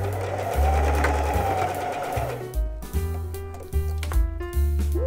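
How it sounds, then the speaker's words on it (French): A sewing machine runs loud and close as it stitches a seam on pajama pants, with a steady whir followed by several short bursts of stitching separated by brief stops. "je vais juste continuer ma couture sur cette ligne-là jusqu'en haut complètement"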